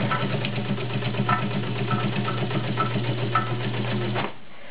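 A vintage Kenmore 1204 zigzag sewing machine runs steadily over a thick double-folded denim seam, a close, continuous motor hum with rhythmic needle clatter that stops abruptly near the end.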